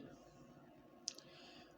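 A single sharp computer mouse click, with a fainter second click just after, over quiet room hiss.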